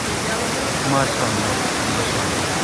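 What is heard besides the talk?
waterfall, water falling from above like fine heavy rain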